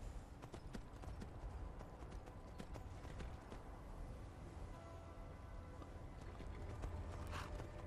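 A horse's hooves clip-clop at a steady walking rhythm in the video game Skyrim, faint and even throughout, with low background ambience and no speech.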